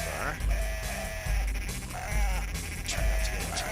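Sheep bleat repeatedly in the Dreamcast game Cool Herders, several loud wavering calls recurring every second or so over steady game background sound and music.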